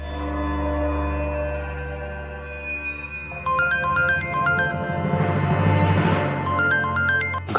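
A phone ringtone plays a repeating electronic melody, steady at first, then a brighter, busier tune joins in; no voices. A missed call from a phone nearby.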